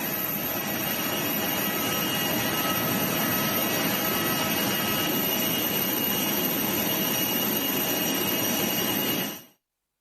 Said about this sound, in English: Jet is airborne!